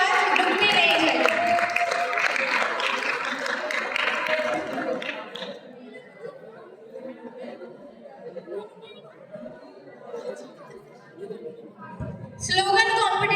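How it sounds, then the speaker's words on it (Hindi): An audience claps loudly for Rajendra at a Nasha Mukti event at Vivekanand Vidya Mandir Inter College in Pithoragarh. The sustained applause lasts about five seconds, then fades into crowd murmur and a speaking voice, and a brief burst of clapping returns near the end. "एक बार जोरदार तालियों से राजेंद्र के लिए तालियां बजाएंगे"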